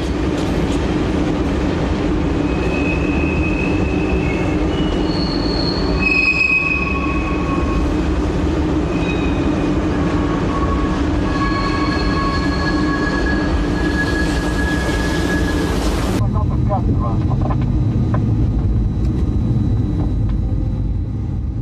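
French passenger train number 5053 on the Paris–Dijon main line pulls away slowly, with steady rolling rumble, wheel clatter and high wheel squeal that continue before the sound shifts to a lower, closer rumble near the end.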